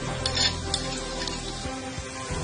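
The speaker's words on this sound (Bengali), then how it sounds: "এখন মশলাটাকে ভালো করে কষায় নিতে হবে" Spice paste of turmeric and garlic paste for a rui fish head curry sautés in a pan, a soft, steady sizzle with occasional scraping taps of a spoon, fairly faint and close.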